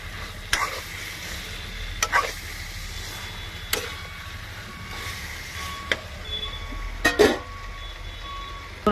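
Potatoes fry in a pan during chicken curry cooking inside a vehicle, a soft continuous sizzle broken by several sharp scraping stirs of a spatula against the pan.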